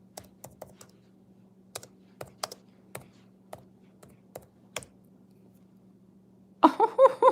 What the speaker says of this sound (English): I'm gonna type this in